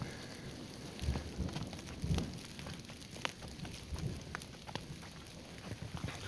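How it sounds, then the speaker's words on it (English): Rain mixed with hail patters and crackles on the ground during a mountain thunderstorm in the Sandia Mountains. Scattered sharper taps rise above a faint, steady wash of rain, and nobody speaks. "It's like a mix between hail and rain"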